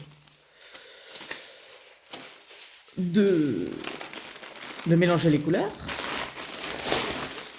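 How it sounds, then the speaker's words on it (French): Plastic bags crinkle and rustle loudly up close in bursts, while a person speaks briefly over the noise. "désolé pour le bruit des sacs."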